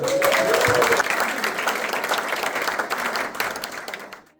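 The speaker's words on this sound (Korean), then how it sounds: "우 한번 감사의 박수." Members of a men's choir clap together in thanks, a dense, loud burst of applause that fills the space and slowly thins out toward the end, with a few cheers mixed in at the start.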